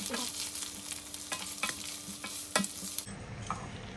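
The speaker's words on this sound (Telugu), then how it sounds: "అవి వేగాక కాకరకాయ ముక్కలు వేసి బాగా కలపండి." Bitter gourd pieces fry in hot oil with curry leaves and a pinch of asafoetida while being stirred, giving a steady close sizzle broken by several sharp scraping strokes of the spoon against the pan.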